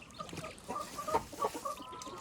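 Hens clucking inside a backyard chicken coop, a few short soft clucks and murmurs in quick succession, fairly quiet and close, with no speech.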